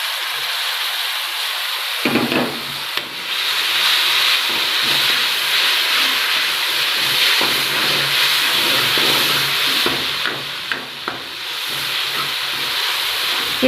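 Ginger garlic paste frying with browned onions, a loud, close, continuous hissing sizzle that starts abruptly after a short quiet moment and holds steady, with occasional faint stirring clicks and no voices.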